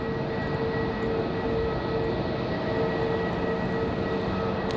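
An airliner departing at night from Raleigh Durham airport, a steady broad engine rumble with a low tonal hum, moderately distant and unbroken throughout with no talking.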